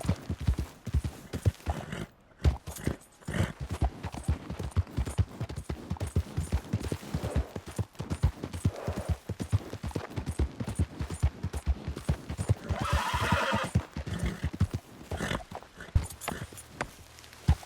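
A horse galloping in Red Dead Redemption 2, with steady, rapid, heavy hoofbeats thudding close and continuous over an outdoor ambience, with brief speech in places.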